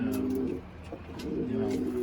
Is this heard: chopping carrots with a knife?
no